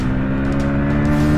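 A Hero Splendor Plus motorcycle engine humming steadily and loud at close range as it shifts into second gear, a continuous drone with no one talking.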